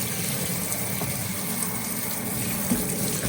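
Tap water runs in a steady, close gushing stream as it rinses Super Clean degreaser off a Traeger grill. The flow is continuous and even, with no voices.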